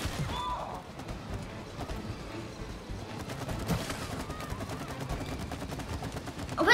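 Gunfire in the co-op game It Takes Two as a character shoots at enemy shields, a fairly quiet, steady stream of rapid shots with clattering impacts over low background noise.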